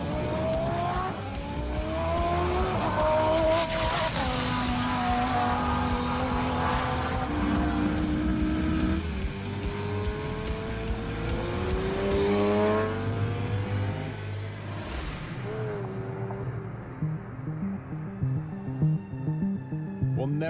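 Loud race car engines roar and whine continuously on a half-mile track at Ocala, pitch rising and falling as cars pass and accelerate, with a sustained motorsport drone throughout.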